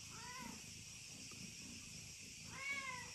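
A cat gives two faint, drawn-out meows, one at the start and one near the end, separated by a quiet stretch over a constant background hiss.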